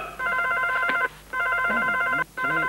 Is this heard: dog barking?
no